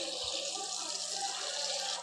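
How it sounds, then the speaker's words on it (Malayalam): Water poured into a pan with mango, sugar and salt, a steady close trickling stream over a low hum, no talk. "നമ്മൾ ഇതിലേക്ക് വെള്ളം കൂട്ടും."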